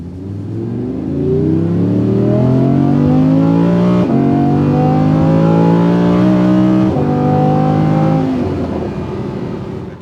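An Audi R8's newly installed exhaust revs up and holds a loud, rising roar, dipping briefly twice between pulls, close by with no talking.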